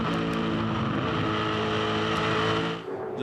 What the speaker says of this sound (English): Lift of the throttle in 3rd gear for Craig.